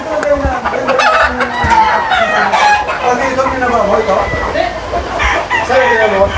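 Chickens and roosters on a game farm in the rain cluck and crow loudly and close, many birds calling over one another, while someone talks through it.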